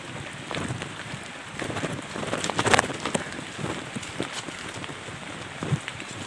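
Rain patters steadily on surfaces during a ride along a narrow jungle footpath over hilly terrain, with scattered drops and gusts of wind noise, moderately loud and continuous, with no talking.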